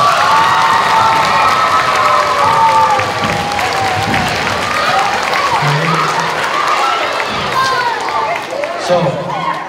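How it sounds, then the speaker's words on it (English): Schoolchildren clapping and cheering for visiting Rochester Fire Department firefighters at a school fire safety demonstration, a loud, dense burst of applause mixed with high-pitched shouts and squeals throughout. "Let's give them a round of applause."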